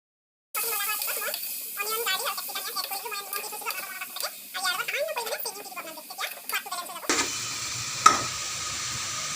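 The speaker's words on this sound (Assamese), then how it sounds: "এতিয়া মেৰিনেট কৰি থোৱা পিঁয়াজ আৰু কেপচিকামখিনি চিকেনৰ লগত ঢালি দিব আৰু লৰাই থাকিব" Chicken stir-fries with onion and capsicum in a pan. A voice talks over a low sizzle and stirring for most of the stretch, then the frying hiss rises alone and louder near the end.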